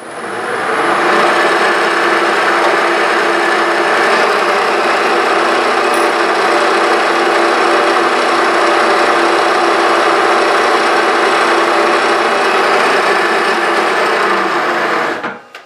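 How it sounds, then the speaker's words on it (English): A drill boring a hole for a prop build whines steadily at high speed for about fifteen seconds, an unbroken loud grinding drone that cuts off abruptly at the end. "Just drill that hole and then I can tap it later."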